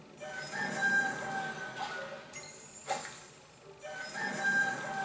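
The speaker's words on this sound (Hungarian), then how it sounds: "Kukorékol." A cartoon rooster crows twice inside the My Little Pony mobile game by Gameloft, each call rising and falling over steady game background music with chiming tones.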